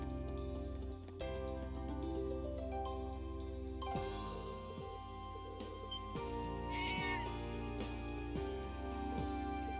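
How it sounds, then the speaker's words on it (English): Cat meowing aboard a train in a video game, heard over constant music and ambient background sound, with several meows spread across the scene. "Just a cat in the train."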